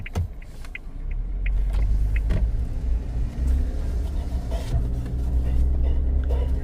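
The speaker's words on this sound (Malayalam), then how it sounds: "വണ്ടി ഓഫായിട്ടുണ്ട്. ബ്രേക്കിൽ നിന്ന് കാലെടുത്തു, ഓട്ടോ സ്റ്റാർട്ട്." A Suzuki Jimny engine restarts automatically as the foot leaves the brake: a short cranking burst, then a steady low idle rumble that carries on close by inside the cabin, with no one talking.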